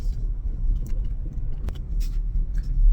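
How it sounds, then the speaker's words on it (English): A car being parked, a TANK 300 4x4, gives a steady low engine rumble close by with faint clicks and small shifts in level, and no talk over it. "Oh, so I'm just parking the car."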